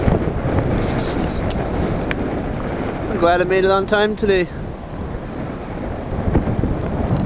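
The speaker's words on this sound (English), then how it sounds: "See the waves splashing up against the island in the middle there." Waves splashing against an island in the middle of the river at Truro, a steady washing roar mixed with wind noise on the microphone, with a person speaking briefly over it partway through.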